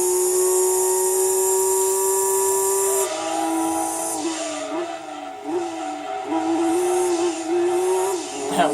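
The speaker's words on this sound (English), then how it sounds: "Did you guys hear the throttle there?" A high-pitched race car engine in Gran Turismo 2 whines steadily, then revs up and down in quick throttle blips, loud and close.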